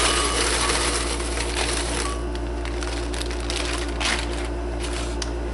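Blueberries tumble into a hard blender jar in a dense rattling clatter of many small impacts, close by, over a steady low background hum.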